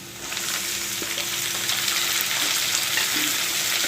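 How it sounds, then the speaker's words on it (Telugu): Half a kilo of tomatoes frying in hot oil tempering for an egg tomato bath, a steady, close hiss of sizzling that fills the whole stretch with no talk over it. "తాలింపు వేగిపోయింది. దీంట్లో ఇప్పుడు 1/2 kg టమాటా వేస్తున్నాను."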